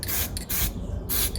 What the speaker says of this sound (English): ducking out to spray paint his army